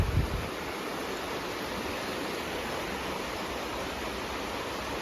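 A river running past a property in Bennington, Vermont, heard as a steady, broadband rushing of flowing water that stays constant throughout, with a brief low thump at the start.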